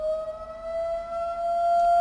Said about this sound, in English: Sorry if you guys hear my siren. I live right next to one.